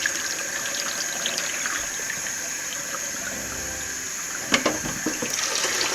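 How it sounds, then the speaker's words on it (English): Hot water from parboiled rice for jollof rice is poured off and drained, heard as a steady close rush of running liquid with a brief clatter near the end. "you're draining out the first water that actually came from your parboiling"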